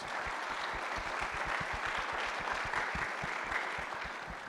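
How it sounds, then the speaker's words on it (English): Quiet, distant-sounding applause for community sponsors at a community recognition awards event, a steady crowd clapping with some individual claps audible, tapering slightly at the end. "A big round of applause for those folks."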